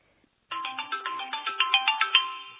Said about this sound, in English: Oops, somebody's phone.